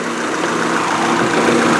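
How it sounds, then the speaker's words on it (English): A 2002 Subaru Forester wagon's boxer engine runs steady and loud up close, a continuous broadband rumble and whir with no speech over it. "These boxer engines are so noisy"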